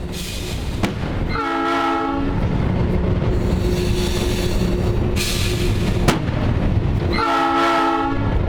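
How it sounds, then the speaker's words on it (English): A vintage steam locomotive, the 261, rolls toward Cascade over railway torpedoes, explosive warning signals. A loud, steady rumble of running gear carries throughout, broken by sharp bangs and two bursts of a multi-tone whistle sounding up close. "we roll over torpedoes, explosive devices to signal us of danger ahead."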